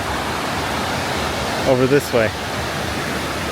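A waterfall in an old town pours with a steady, broadband rush of water, close and constant throughout, while a person speaks briefly midway.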